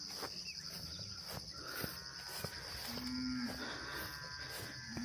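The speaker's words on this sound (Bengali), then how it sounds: "চারদিকে গরু হম্বা" Cattle moo across a large Ugandan ranch, with several drawn-out low calls at moderate distance over a steady outdoor backdrop of chirping insects.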